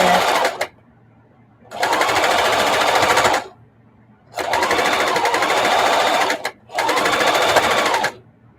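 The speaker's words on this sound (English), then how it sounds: "Yes, she's sewing properly." A sewing machine stitches a fabric mug rug in three rapid whirring bursts, each lasting one to two seconds and separated by short pauses, loud and close.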